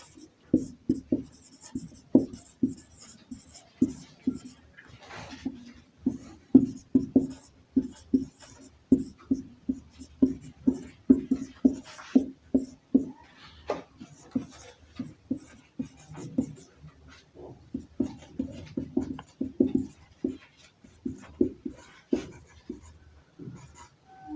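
Chalk or marker writing on a board during a Class 12 matrices lesson: continuous uneven taps and scratches of strokes for over twenty seconds, close and steady, with no voice over them.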